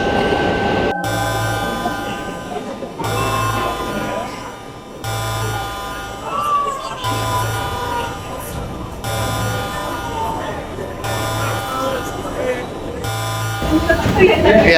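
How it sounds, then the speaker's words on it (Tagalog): Inside a subway train in a tunnel after an earthquake, a deep electric hum with regular pulsing tones and rail noise builds as the train sets off, while someone talks nearby. "Ayan yung kabilang tren. Umandar na"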